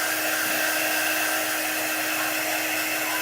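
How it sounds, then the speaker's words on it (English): A hair dryer on its low setting blows steadily and close up while drying chalk paint, a constant broadband whoosh with a faint whine and no talking. "If you have a hair dryer, just put it on low."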